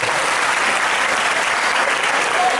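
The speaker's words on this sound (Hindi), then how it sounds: "एक बार निर्णायकों के लिए तालियां बजनी चाहिए।" An audience at a college Martyrs' Day prize ceremony applauds the judges, a dense, continuous wash of many hands clapping at once, loud and steady throughout with no pause.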